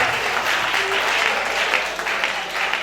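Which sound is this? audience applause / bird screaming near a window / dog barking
audience applause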